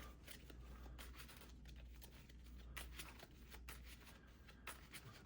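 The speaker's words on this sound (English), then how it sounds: "good and shuffled." Harry Potter Hogwarts Battle cards in Dragon Shield sleeves shuffled by hand, a steady run of soft riffling and sliding strokes, close and fairly quiet, with no talking.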